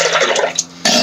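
A razor rinsed under a running tap, steady splashing water with a brief dip and a short clink before the flow surges back loudly.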